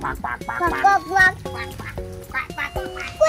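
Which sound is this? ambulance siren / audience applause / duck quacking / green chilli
duck quacking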